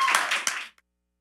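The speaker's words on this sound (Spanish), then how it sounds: "¡Fuerte la palmas, por favor!" Audience applause closes the final night of El Soundtrack de tu Vida at the Estadio Nacional: a dense, close burst of clapping that cuts off abruptly after under a second.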